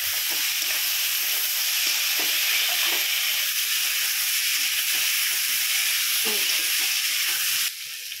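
Boiled potatoes fry in a small amount of oil for an egg curry, giving a steady bright sizzle and hiss with occasional soft clinks of stirring.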